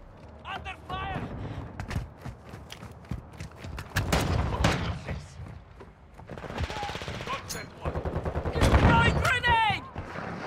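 Modern Warfare 2 firefight with dense bursts of automatic gunfire and single shots, loud and close, mixed with impacts and thuds while soldiers shout over the shooting.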